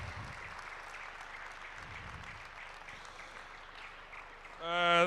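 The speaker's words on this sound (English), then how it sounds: "Let's sustain that clapping of hands just for 30 seconds." An audience at a transport month campaign launch claps steadily at moderate distance, a soft continuous patter lasting several seconds before a voice begins speaking near the end.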